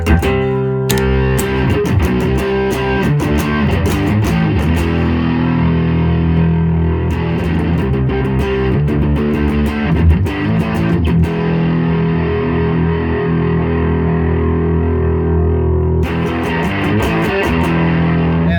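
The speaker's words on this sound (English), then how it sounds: "This is like more normal range of overdrive distortion." Heavily overdriven electric guitar through a distortion pedal playing thick, sustained chords and riffs, loud and continuous with a few brief pauses between strummed phrases and no talking.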